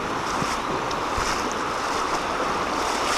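A boat is paddled across flowing water at Shardlow, with steady splashing and rushing water noise mixed with wind buffeting on the microphone, continuous and fairly loud throughout.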